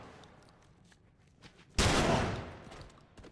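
Gunfire in The Last of Us video game: a single loud, sharp blast with a long decaying tail bursts out after quiet ambience and faint clicks.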